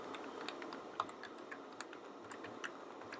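Java code typed on a computer keyboard, a steady run of light, quick key clicks, close and moderately quiet.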